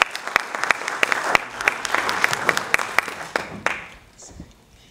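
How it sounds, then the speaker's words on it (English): A crowd applauds its sponsors at a Caribbean Week tourism event. Many hands clap with loud individual claps standing out sharply, then the clapping fades out near the end into a quieter room. "A round of applause for our sponsors."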